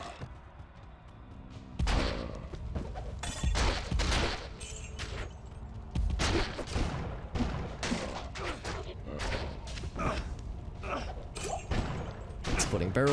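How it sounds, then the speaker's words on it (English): Exploding barrels in Diablo II blast repeatedly in close succession, sharp loud bursts stacking into a rough, crackling barrage amid other game effects, with someone talking over the chaos. "these exploding barrels are doing more damage to me than anything else"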